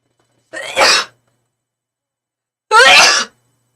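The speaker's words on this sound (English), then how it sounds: "I don't think I've ever sneezed on my live stream." Two separate sneezes from a woman hosting a live tarot reading stream, each a sharp burst about two seconds apart, close and loud against an otherwise silent background.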